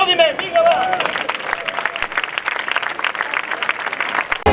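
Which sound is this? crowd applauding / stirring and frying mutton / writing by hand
crowd applauding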